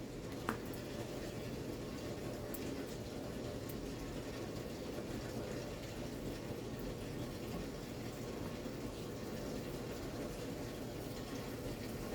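Distilled water poured onto living soil while top dressing it, a steady, faint, even trickle that runs unbroken throughout, with no talk over it.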